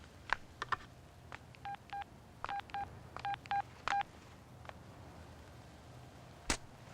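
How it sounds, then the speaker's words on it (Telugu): A telephone number is dialed as a quick series of about a dozen bright touch-tone beeps in uneven groups, followed by a single sharp click. "ఒక ఫోన్ చేసి చూద్దామా? నంబర్ ఏమన్నాడు? 3636"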